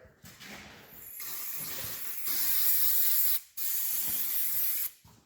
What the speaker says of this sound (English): I have to get me another can of brake clean out.